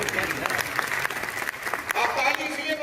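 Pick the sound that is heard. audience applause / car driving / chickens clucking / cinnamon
audience applause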